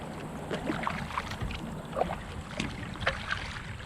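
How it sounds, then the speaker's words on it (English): An 11 ft homemade foam and fabric kayak is paddled into the wind at Sugar Land Memorial Park: soft, regular splashes and water swishes from the strokes over a steady wash of wind. "And now I'm kind of paddling into the wind."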